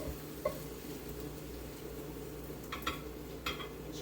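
Cooked onions are scraped from a pan into a bowl during burger prep. A faint steady sizzle runs underneath, broken by a few light metallic clinks and scrapes of a utensil near the end.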